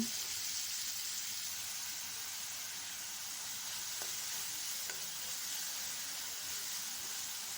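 Chopped onion and green chilli sizzling in hot coconut oil in a pan, a steady, even frying hiss with faint stirring, no voices.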